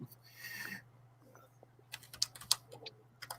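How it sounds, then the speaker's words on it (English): Computer keyboard typing in a few brisk clicking bursts, near and fairly quiet against a low steady hum, after a short stretch of faint muffled sound. "Sorry, I'm typing in stuff for the comments."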